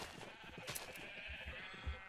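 Sheep bleating in the Minecraft video game, a short faint bleat rising briefly over quiet background sound, alone without talk.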